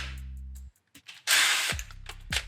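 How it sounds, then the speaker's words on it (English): Power drill fitted with a step bit boring a hole through a plastic kayak hull, short whirring motor bursts starting and stopping, with a loud gritty cutting stretch in the middle, close up. "working on your kayaks and drilling holes in your kayaks"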